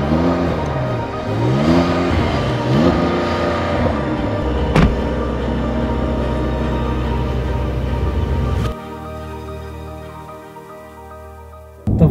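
A supercar engine revs hard through its exhaust after a button press, opening with several rising and falling rev sweeps, then a sustained loud roar that drops abruptly to a quieter idle near the end.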